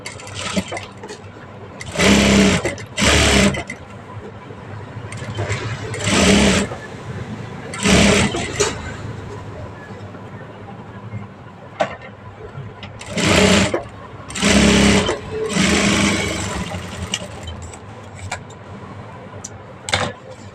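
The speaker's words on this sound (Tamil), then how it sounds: "அது மேலே நம்ம ஒரு படிமான தையல் போட்டுக்கலாம்." Sewing machine stitching the sleeve of an old blouse, running in loud bursts of rapid whirring with short pauses between them, while someone talks quietly in between.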